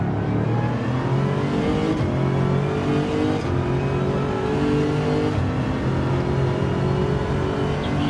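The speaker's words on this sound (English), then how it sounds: "Hear that Lexus absolutely revving. Sounds fantastic." A Lexus race car engine revs hard on the Suzuka Circuit during an electric-series race, its pitch climbing repeatedly with short upshifts, a loud continuous on-track roar with no voices.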